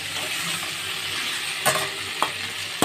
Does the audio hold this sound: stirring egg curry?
yes